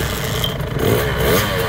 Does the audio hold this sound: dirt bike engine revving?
yes